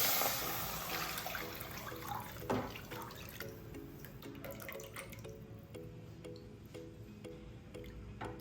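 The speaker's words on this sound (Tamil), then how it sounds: "இப்போது ஸ்டவ்வில் ஒரு நான்ஸ்டிக் பேன் வச்சுட்டு ஸ்டவ்வில் போட்டு நம்ம மீடியம் ஃப்ளேமில் வச்சு அப்படியே கைவிடாமல் அப்படியே கிளறி விட்டுட்டே இருப்போம்" A thin liquid mixture poured into a nonstick pan on a stove, followed by faint wet dripping, squishing and stirring sounds in a quiet kitchen, close but soft.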